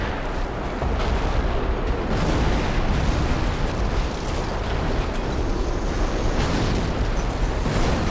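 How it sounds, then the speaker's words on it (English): A Company of Heroes artillery barrage fills the scene with continuous, loud rumbling explosions, dense overlapping booms that roll on without a break. "New artillery barrage"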